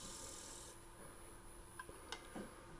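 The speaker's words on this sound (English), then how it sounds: "I'm rubbing that bevel that on the part that I've already turned." Lathe gouge bevel rubbing against thin, already-turned wood, a soft continuous rasping hiss with a louder stretch at the start, then quieter scraping and a few faint ticks.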